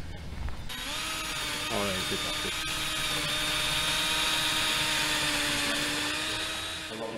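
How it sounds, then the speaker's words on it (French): A cordless drill-driver screwing panels of a wooden book box together outdoors, a sustained high whine that ramps up and holds steady for several seconds; a person speaks briefly over it. "perceuse, visseuse"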